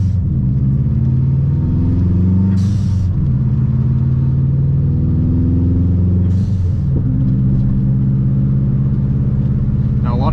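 Modded Subaru WRX pulling away from a traffic light in city rain, a loud steady engine drone climbing through the revs, dropping briefly at two gear changes, then rising again.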